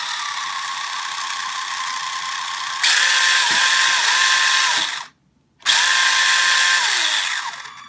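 A small electric motor in a GP Toys S606 1/24 scale RC desert buggy whines steadily, then revs higher and louder, cuts out briefly, and spins up again, close and mechanical.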